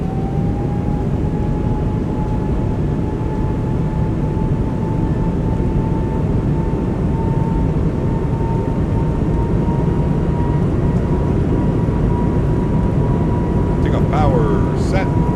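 Airbus A220 engines spooling up for the takeoff roll in a flight simulator, a loud steady roar with a rising whine held throughout, brief voices near the end.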